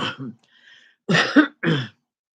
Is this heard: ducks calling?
no